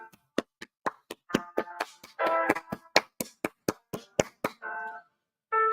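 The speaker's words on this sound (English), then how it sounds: "Let's give her a standing ovation." Sparse, steady handclaps at a press conference about a lawsuit, sounding like only a few people clapping in an even rhythm, with short bursts of talk breaking in between.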